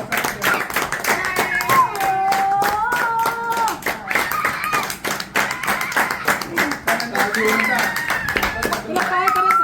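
An audience claps steadily, the sharp clatter of many hands continuing throughout while a person talks and calls out over it.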